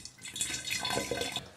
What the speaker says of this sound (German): So, ich mache mal ein bisschen Wasser rein.